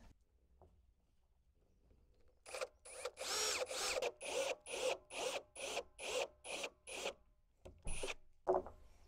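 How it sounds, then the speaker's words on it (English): A roughly 27 mm hole being bored with a power drill for a DIY plant watering fitting: about a dozen short, loud, evenly spaced grinding bursts separated by brief pauses, close up with no voices. "I need a roughly 27 millimeter hole"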